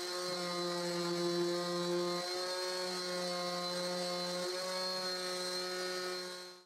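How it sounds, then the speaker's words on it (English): A power sander works the rounded corners and cut edges of a wooden pallet garden chair, giving a steady, droning machine whine with two brief dips in pitch. No voices are present. "And I sand the rounded corners. And I sand all the cuts I made."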